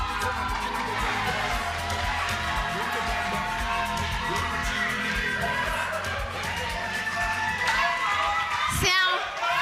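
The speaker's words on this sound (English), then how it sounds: "a round of applause for our next contestants" Studio audience on a TV talent show claps and cheers for the next contestants, a dense, loud wash of applause and whoops with voices mixed in, ending in an abrupt burst near the close.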